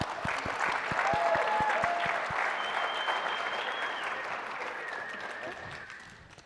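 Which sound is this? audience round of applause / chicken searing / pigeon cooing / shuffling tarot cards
audience round of applause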